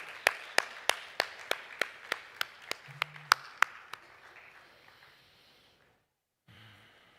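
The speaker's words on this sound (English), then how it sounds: "Another round of applause to Michael and the panel," A dozen sharp, evenly spaced claps ring out close by at a conference gathering, with a few breaths after as the clapping stops and the room goes quiet.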